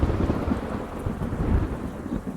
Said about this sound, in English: Mr. Petrescu, what are you doing out here in the rain and the dark?